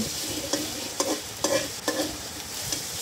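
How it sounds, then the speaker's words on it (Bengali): Onions stirred and fried in a pan for a home-cooked taro and beef dish: a steady sizzle broken by a spoon or spatula scraping the pan about twice a second, close and clear with no talking. "পেঁয়াজ দিয়ে নাড়াচাড়া করতেছি"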